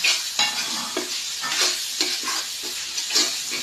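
Holy basil being stir-fried in a pan in a noisy home kitchen: a steady bright sizzle, close and loud, broken by repeated rhythmic scrapes and clacks of the spatula roughly every half second, with no voices.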